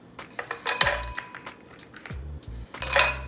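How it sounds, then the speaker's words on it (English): Ice cubes dropped by hand into a highball glass for a Singapore Sling, giving a few bright clinks and rattles in two close bursts, with no talking. "I'm gonna add some ice to my highball glass here."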